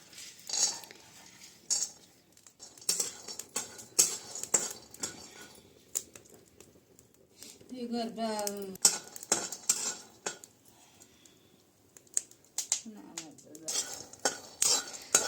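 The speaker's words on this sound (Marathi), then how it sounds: "आता हा आपण देठाच्या भाजीसाठी मसाला भाजून घेऊयात" A spatula scrapes and clinks in a dry pan as masala spices and peanuts are roasted for a rustic stalk-vegetable dish, an uneven series of metallic stirs and taps with brief quiet gaps and a faint voice now and then.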